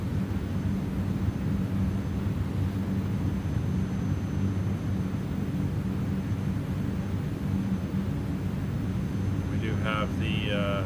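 Steady, loud turboprop drone of an ATR72-600 in a flight simulator, a constant low rumble, with a few brief tonal beeps near the end.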